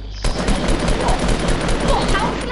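Gunfire in Grand Theft Auto, a loud, dense burst of automatic shots rattling continuously for a couple of seconds, close and steady.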